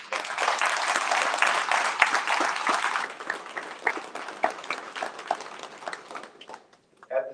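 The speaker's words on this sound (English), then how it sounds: "Can we do one more round of applause for all our students?" Audience applause for students at a school district board of education meeting, a dense, steady clapping that holds for about three seconds and then thins into scattered claps before fading out.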